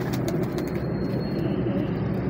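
Low, rumbling coos from domestic Teddy pigeons repeat steadily and close, with a few faint higher chirps early on and no talking.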